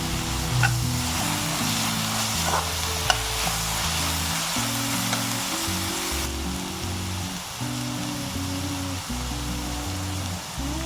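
Green chillies sizzle and crackle in hot oil for a South Indian egg pepper gravy, a steady dense frying hiss with faint stirring, with no voices.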